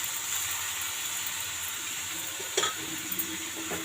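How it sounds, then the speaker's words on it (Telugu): Shredded cabbage fries in a pan for a cabbage boondi curry, giving a soft, steady sizzle with a few light scrapes and clinks of stirring, faint and close. "మొత్తం అంతా ఒకసారి బాగా కలిపేసుకుందాము."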